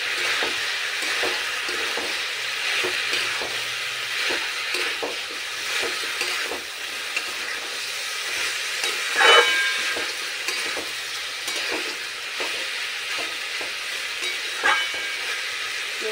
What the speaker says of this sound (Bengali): এবার সমস্ত কিছু খুব ভালো করে মিশিয়ে নেব।